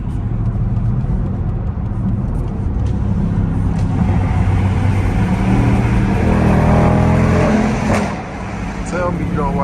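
A 2022 Dodge Durango R/T engine rumbles from inside the cabin while driving, rising into a louder rev before easing off near the end, with someone speaking over it.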